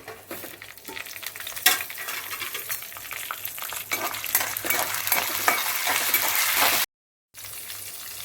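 Garlic and green chilies fry in a hot pan for ridge gourd chutney, giving a continuous loud sizzle broken by stirring scrapes, with one brief silent gap near the end.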